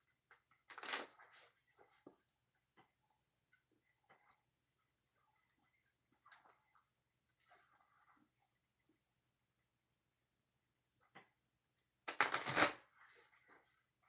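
Oracle cards are shuffled in two brisk riffling bursts, one early and one near the end, with a long stretch of near-quiet and faint scattered taps between them.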